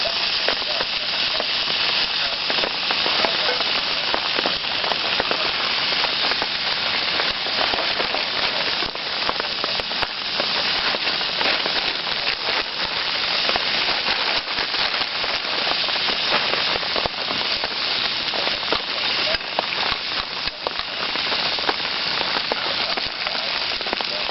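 Breakfast sizzles and spits in a pan on a small camping stove: a loud, steady frying hiss with crackling pops throughout, running alone without speech.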